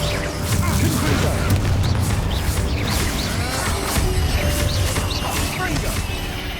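Confringo fire-blast spell explosions in the Hogwarts Legacy video game, a dense, continuous barrage of booms and crashing impacts layered with game music and battle noise, loud and sustained throughout, with brief bright spell bursts on top.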